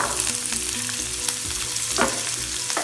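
Onions sauté in hot oil in a pan for a samosa filling, giving a steady close sizzle with occasional stirring scrapes and soft tonal background sound running underneath.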